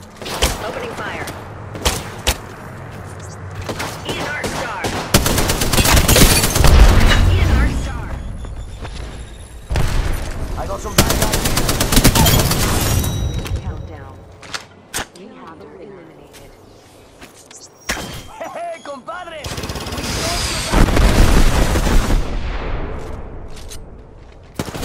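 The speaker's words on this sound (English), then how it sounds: "Taking fire. Opening fire." Gunfire in the video game Apex Legends comes in repeated bursts and rapid volleys with booms and thuds, loud and close, broken by short lulls, with a voice speaking over parts of it.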